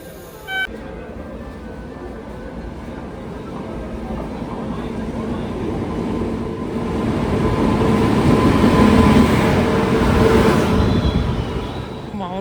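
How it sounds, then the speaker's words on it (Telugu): Nilgiri Superfast express train pulling into a railway station platform, a broad rumbling roar that builds steadily over several seconds as it nears, loud and continuous with no voices over it. "ట్రైన్ అయితే దూసుకొని వస్తుంది ప్లాట్ఫామ్ మీదకి."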